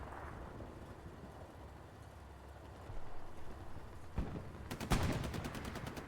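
Machine-gun fire in the World War II shooter Hell Let Loose, as a gunner fires on a player trapped in a house. Dull distant shots give way to sharper, louder bursts of rapid fire near the end, over low battlefield rumble.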